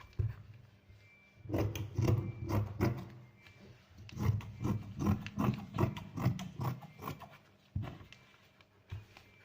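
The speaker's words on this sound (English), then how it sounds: "I will be cutting out my lining too, the same way" Scissors cut fabric lining for a child's cap-sleeve garment, a series of crisp close snipping and crunching strokes in irregular bursts with short pauses between.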